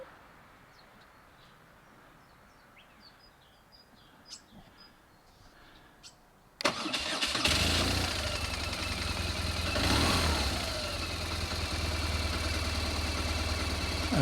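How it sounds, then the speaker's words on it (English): A Lexus GS engine starts after quiet outdoor ambience with faint birdsong. The starter catches suddenly and settles into a steady, close idle that runs to the end. "Let me just see, it starts first time normally. Ignition goes through its checks."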